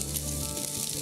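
Chopped onion frying in a spoonful of refined oil in a home kitchen: a continuous close, even sizzle with a steady hiss, no talking.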